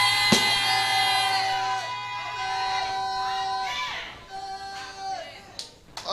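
A church congregation acclaims together, with voices rising in sustained, wavering shouts and whoops over a dense crowd murmur. The sound is loud and continuous, then thins into scattered calls near the end.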